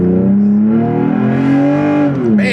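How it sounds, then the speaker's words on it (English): A 3rd-gen Toyota Tacoma with an aftermarket exhaust and cold air intake revs loudly and close up, its engine note climbing steadily as it accelerates from a stop. The growl holds throughout with no one talking. "That's the exhaust, of course, and the cold air intake I have on there"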